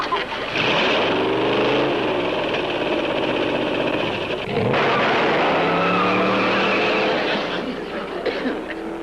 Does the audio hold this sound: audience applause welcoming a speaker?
no